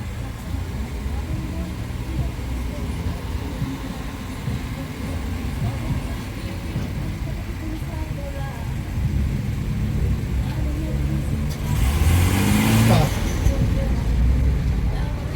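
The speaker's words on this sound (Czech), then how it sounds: "jedná se konkrétně o Mercedes-Benz 300 SEL z roku 1963" 1963 Mercedes-Benz 300 SEL classic car passing at a vintage car rally in Český Krumlov, low engine rumble swelling as it goes by under a commentator's continuous talk.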